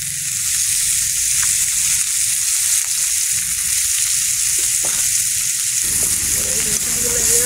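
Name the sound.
oil and garlic sizzling in pan for fish curry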